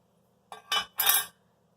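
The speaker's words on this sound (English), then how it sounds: "I'm going to take my knife and just carefully cut along that edge to cut off the rind" A knife slices the rind off a cantaloupe in two or three close, crisp cutting strokes, each a short scraping swish up close, with no one talking.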